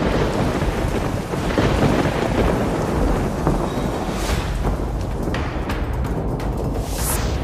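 A heavy thunderstorm in a Hindi cartoon: a loud, steady downpour of rain with rolling thunder rumbling throughout, and no voices.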